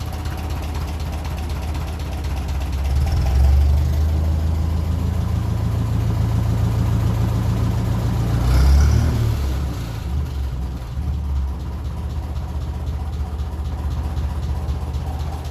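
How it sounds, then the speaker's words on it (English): A 1957 Ferguson 35 tractor with a TVO engine runs at a low 450 rpm tick-over, a steady deep mechanical chugging with rattling and ticking, briefly swelling in loudness midway before settling back to an even idle. "Nice low 450 rev per minute tick over."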